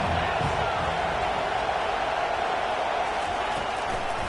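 Stadium crowd at a USC versus Utah college football game, a steady dense roar filling the whole stretch, loud and unbroken with no distinct claps or chants standing out.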